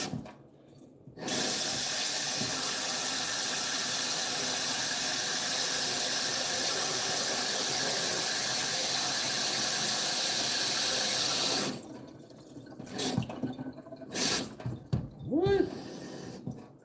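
A kitchen cold water tap with a faulty valve is turned on, giving a loud, steady rushing hiss for about ten seconds before it cuts off, followed by clatter and brief voice sounds.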